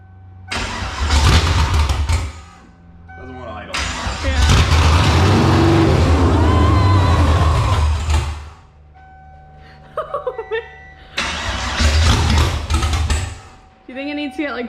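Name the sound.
engine running rough after first start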